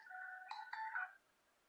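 Phone ringback tone on an outgoing call, a single electronic ring burst with warbling tones lasting about a second before it cuts to quiet line noise.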